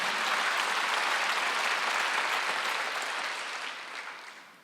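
A congregation claps during a Wednesday church service, producing a dense, even wash of applause that holds steady and then fades away near the end.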